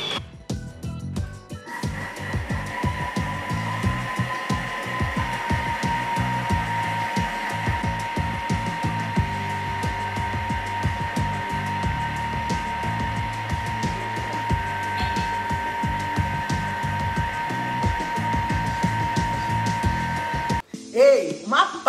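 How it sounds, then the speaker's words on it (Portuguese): A food processor grinds coconut into a paste, a loud steady motor whir with a dense rattling churn that runs continuously for about twenty seconds before cutting out near the end. "é todo esse processo de girar, processar, que faz com que a gordura solte e que se torne uma pasta"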